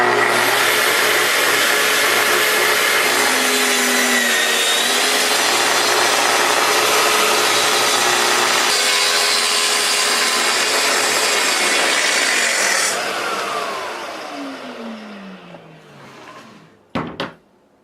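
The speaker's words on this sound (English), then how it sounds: "I can cut the angle, and you'll see this saw will stop exactly where I want it to" A plunge saw cutting a wooden shelf with limit stops, a loud steady motor whine under the cut for about thirteen seconds, then winding down and fading, followed by two brief knocks.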